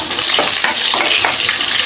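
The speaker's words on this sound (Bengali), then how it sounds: "পেঁয়াজটা হালকা ভেজে নেবো" Onion fries in hot oil with bay leaves, cinnamon, cardamom and cloves, a loud continuous sizzle with faint stirring scrapes, close and steady.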